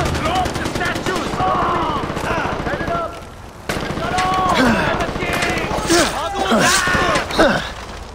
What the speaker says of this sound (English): He has the MG! Shoot!